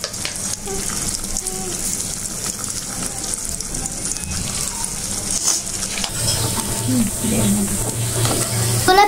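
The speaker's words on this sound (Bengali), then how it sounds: "এখন আমরা ডিমটাকে নাড়ি" An egg fries in oil in a pan while being stirred, a steady wet sizzle with spatter running throughout and a scraping stir, getting slightly louder toward the end.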